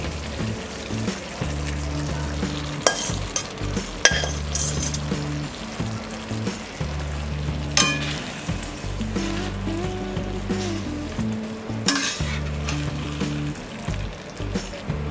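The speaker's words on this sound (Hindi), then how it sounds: "अब हम इसमें डालेंगे ये फ्राइड भिंडी।" Fried okra is stirred into a hot masala for a dhaba-style bhindi dish, giving a soft continuous sizzle broken by clanking spoon-on-pan strokes and scraping, close and fairly quiet with no voices.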